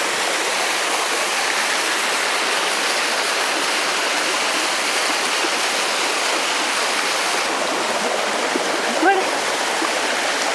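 The Barakanya waterfall and its flowing stream produce a loud, steady rushing roar of falling water that fills the scene evenly from start to finish, with a faint brief sound near the end.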